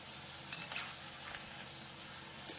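Wheat chips frying in hot oil, a quiet steady sizzle throughout with a couple of brief brighter crackles from stirring or turning.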